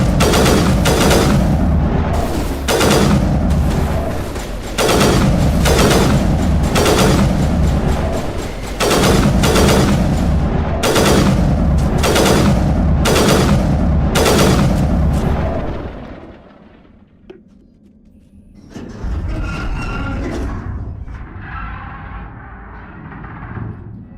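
Gunfire in Mass Effect 1 rings out as a string of loud, sharp shots in an uneven rhythm, followed by a short lull and then fainter scattered combat noise.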